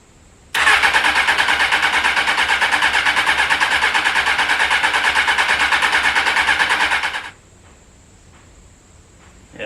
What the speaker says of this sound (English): that starter motor's starting to get warm